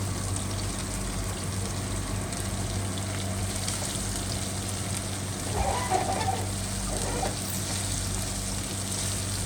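Broccoli tipped into a pan of half-cooked frying chicken, a steady sizzle and hiss running throughout with a brief louder crackle midway as the florets hit the hot oil.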